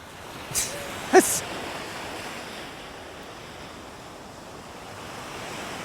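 Surf breaks and washes on a beach in Nerja, a soft, continuous roar at moderate distance, with two brief louder knocks near the start and no talk.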